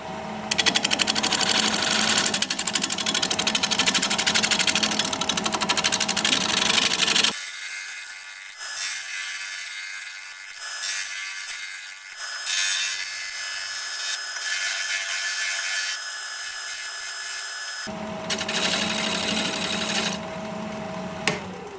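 A wood turning tool is sharpened with a loud continuous grinding whir that stops abruptly, followed by quieter intermittent rubbing and handling sounds, then the grinding resumes near the end.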